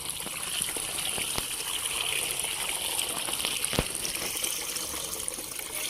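Water runs and trickles steadily while termite mushrooms are washed for a bamboo-shoot curry, with a continuous close splashing hiss and a few small clinks.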